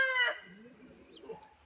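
Laying hens and a rooster on a homestead farm: a loud crow-like call opens, followed by softer scattered clucking and murmuring from the flock nearby.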